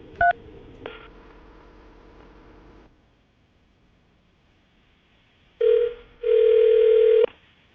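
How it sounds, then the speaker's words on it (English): A phone number dialed on a telephone: a few tone beeps, then a steady hum that stops and gives way to near silence, followed by a short tone and a longer loud steady tone, with no talking. "I'm going to dial the phone number right now, see if we can get him on the phone"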